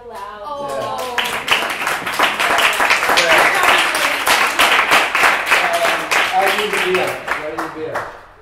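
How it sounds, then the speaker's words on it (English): Sustained audience applause for a comedian at a live comedy show at Rio Bravo, dense steady clapping from a crowd that swells and holds for several seconds, with voices mixed in over it. "So we should clap extra loud."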